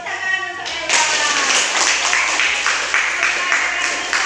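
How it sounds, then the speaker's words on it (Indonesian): A classroom group claps for a student during a physics teaching session, dense steady applause starting abruptly after a brief moment of quiet and continuing loud and close to the end. "Oke, tepuk tangan untuk Ella."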